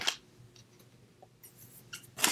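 Scissors snip a paper napkin in a few quiet, brief cuts in a hushed room, ending with a louder, crisper snip.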